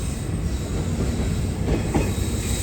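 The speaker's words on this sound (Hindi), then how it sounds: "9:40 ट्रेन हमारी पहुंच रही है जमशाई रेलवे स्टेशन पर" Bahauddin Zakariya Express night train pulling into Jamshai station, a steady close rumble of rolling cars with faint wheel squeals and a few clicks, continuous and fairly loud.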